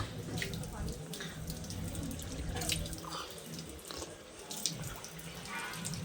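Steady running water splashing continuously from a cow-shaped spout at Kadri Manjunatha Temple, fairly close, with a faint murmur of voices in the background.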